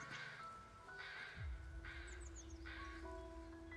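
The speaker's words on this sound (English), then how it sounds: "You see the bird? He's like nesting in my hat." A crow-like bird cawing in the video game Where Winds Meet, several short harsh calls repeating at a steady pace over a continuous game soundscape, with chirpy sweeps partway through.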